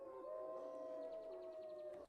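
Wolves howl in a forest as a film sound effect: a faint, distant, sustained tonal howl holds steady for about two seconds with other quiet layered calls beneath it.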